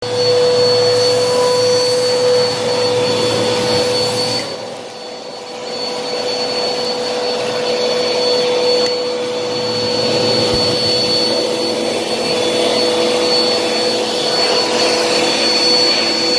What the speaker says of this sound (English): So this is for the vacuum lovers.